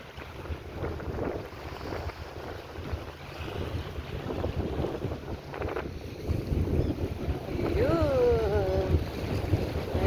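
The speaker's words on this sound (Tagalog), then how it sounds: "Ay parating na bangka." A boat approaching on the sea near a beach, its engine drone rising and growing louder toward the end, mixed with wind buffeting the microphone and washing waves, with brief voices nearby.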